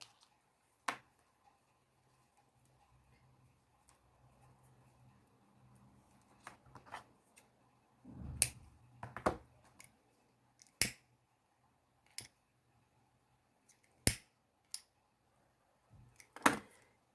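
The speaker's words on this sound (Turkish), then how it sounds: "Yine fazlalıkları kesiyorum." Scissors snip excess cord off a square-knot macramé bracelet, a handful of sharp, quiet clicks and cuts spaced irregularly over a near-silent background with faint handling rustle.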